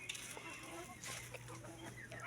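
Chickens cluck softly a few times over a low steady hum, with no talking.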